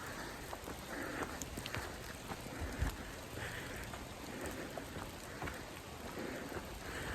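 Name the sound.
rain falling in forest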